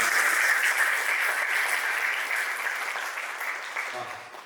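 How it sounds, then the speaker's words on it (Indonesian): Steady audience applause after an inspirational talk, a dense even wash of clapping from a large crowd that gradually fades near the end. "Mohon berikan tepuk tangan sekali lagi."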